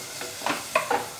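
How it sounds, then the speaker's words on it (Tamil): Beetroot and other vegetables being sautéed in a pan: a few soft stirring scrapes with a faint sizzle underneath, close and fairly quiet, no voices. "பீட்ரூட் சேர்த்துட்டு ஒரு வதக்கிடலாங்க"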